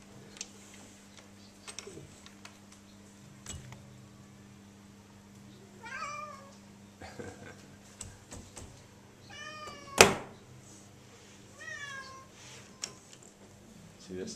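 Several cats meow in short, rising calls, some close and one sharp and loud, over a low steady hum with faint ticking noises.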